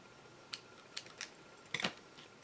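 Scissors snip ribbon for a vintage rose craft journal tag, with a few quiet, close cuts spaced apart and a quick double snip near the end, no talking.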